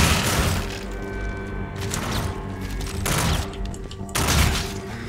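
Shotgun blasts in the Call of Duty: Infinite Warfare campaign, three heavy booming shots spaced about a second apart over dense game noise and mechanical clatter, close and loud.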